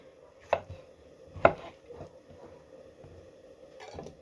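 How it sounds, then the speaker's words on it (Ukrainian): A knife chops tomatoes into cubes on a cutting board in a few sharp, spaced strikes, close and distinct against a quiet kitchen background. "все помідорки нарізаю кубиками"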